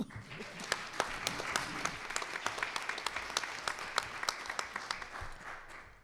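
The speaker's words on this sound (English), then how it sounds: "Round of applause, please." Applause from a panel discussion audience: a steady patter of many hands clapping at moderate distance, with sharp individual claps standing out, holding evenly for about six seconds before easing off.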